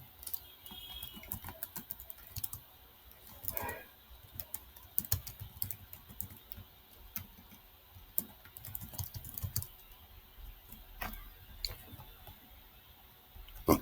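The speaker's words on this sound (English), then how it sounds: "Let me type it here." Computer keyboard typing, a run of light irregular clicks and taps at close range, moderately quiet with brief pauses between keystrokes and no voices.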